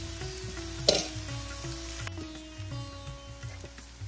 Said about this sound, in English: So our onions are looking beautiful and lightly golden.